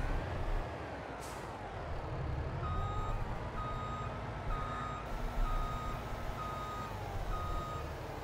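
Steady reversing beeps from a truck in Farming Simulator 22, repeating evenly over a continuous low engine rumble, with no talking.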